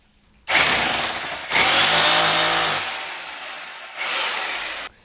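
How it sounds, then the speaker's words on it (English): Electric drill whirring into a wall in loud bursts, a long steady run followed by a shorter second burst, no talking. "we are very careful that the drilling machine is well horizontal"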